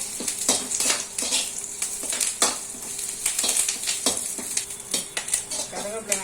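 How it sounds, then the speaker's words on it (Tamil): Curry leaves fry in hot oil for homemade idli podi, giving a steady crackling sizzle broken by repeated clinks and scrapes of a spoon stirring against the pan, close by and moderately loud. "கருவேப்பிலை நல்ல பொரியணும். பொரிஞ்சாதான் நல்ல வாசம் கிடைக்கும்."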